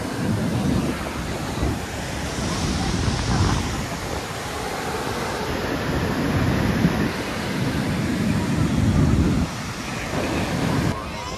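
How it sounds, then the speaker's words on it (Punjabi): Ocean waves breaking on a beach in Goa, a broad rushing surf that swells and recedes in slow surges, mixed with wind buffeting the microphone and no clear speech. "ਲਹਿਰਾਂ"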